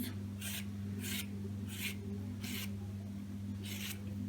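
A knife dicing cucumber into cubes for a tuna salad, heard as five evenly spaced, crisp cutting strokes over a steady low hum.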